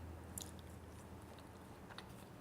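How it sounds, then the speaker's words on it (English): Crunchy mixed vegetable chips dipped in a truffle-oil dip are bitten, giving a couple of faint, crisp crunches followed by soft chewing, close and quiet with no talking. "The chips are really crunchy and so many flavours."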